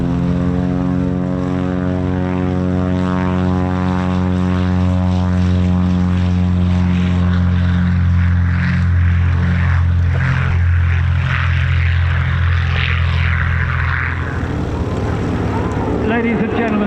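A Navion propeller airplane passes overhead at an airshow, its engine droning loud and steady, then fading as it moves away, while an announcer's voice talks over it.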